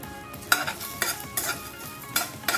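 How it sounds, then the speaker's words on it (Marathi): Whole garam masala spices dry-roasting in a hot kadhai over low gas, with repeated scraping and stirring strokes of a metal spatula against the pan and a faint crackle between them, close and without talk. "लो गॅस ठेवून मसाले भाजून घ्यायचे चांगले।"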